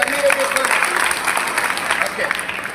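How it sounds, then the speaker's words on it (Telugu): An audience at a sanitation workers' awareness event claps in a dense, steady burst of applause, close and continuous for a few seconds. "చప్పట్లు కొట్టారు."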